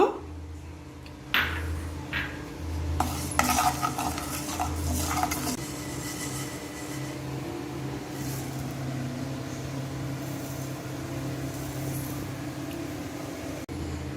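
Mustard seeds and fenugreek roast in a pan for homemade sambar powder while a metal spoon scrapes and stirs, with clattering strokes early on and then a softer, continuous rustling and faint sizzle.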